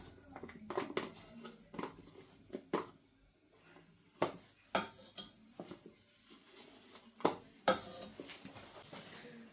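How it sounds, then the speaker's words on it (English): Broccoli being mashed with butter and milk in a pot, heard as irregular metallic clanks and knocks of a masher or utensil against the pan, close and fairly quiet, with no talking. "I'm going to give this a good smash with some butter and milk."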